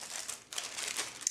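A plastic bag holding Wingspan board game pieces crinkles up close for a moment, a quiet, crisp rustle with a couple of sharper crackles.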